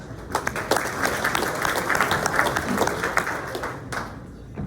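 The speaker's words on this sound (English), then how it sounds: "Let's give a round of applause." A crowd applauds at a morning community event honoring police and fire, brisk clapping from many hands that swells, holds steady, then thins out near the end.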